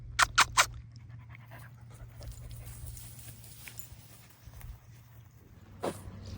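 Dogs pant softly and rhythmically nearby outdoors during a summer walk, following a few sharp louder sounds at the start, with a low steady hum underneath and no talking.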